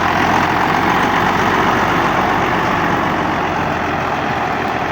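A loud, steady early-model T-150 tractor engine idling up close, a constant rough diesel rumble with no pauses or voices.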